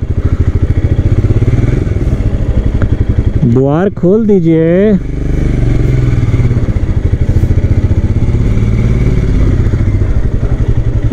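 A Royal Enfield Interceptor motorcycle engine idles steadily with a low, pulsing thrum throughout, while someone talks briefly over it.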